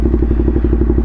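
A Ducati Monster motorcycle fitted with an SC Project exhaust rumbles loud and close, its exhaust pulsing in a rapid, even, throbbing beat.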